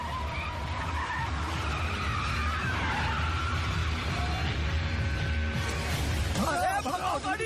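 A car speeding away in an action chase scene: sustained engine and tire noise with skidding, loud and continuous, under tense background sound and voices.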